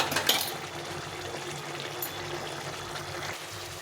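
Pumpkin chhokka, sweetened with sugar, bubbles steadily in a pot, a soft continuous simmer with faint liquid gurgles and a few brief clinks near the start, no talking.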